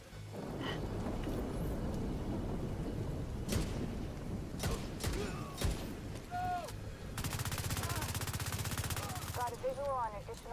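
Automatic Bighorn rifle fire in a military shooter game, with sharp bursts and a long sustained rattling volley near the end over constant battle noise, rain-like hiss and occasional voices.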